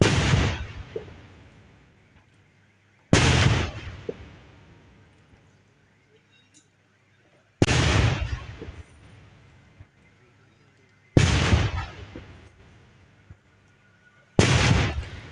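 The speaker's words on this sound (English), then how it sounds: "21 gun salutes were done in his favor." Five loud, booming cannon blasts of a 21-gun salute at a state burial, spaced several seconds apart, each with a long echoing decay, heard outdoors at a distance.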